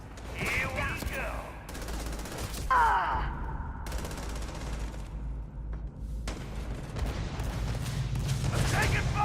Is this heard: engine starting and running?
no